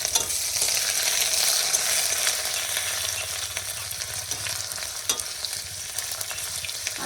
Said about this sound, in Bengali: এই যে ফোড়ন দিয়ে দিচ্ছি একটু কমই তেল দিছি